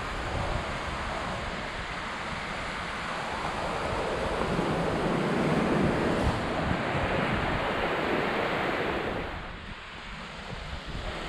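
Ocean surf rolling onto a compacted Pacific coast beach near Cape Alava, a broad steady roar swelling mid-clip and easing off, mixed with wind buffeting the microphone.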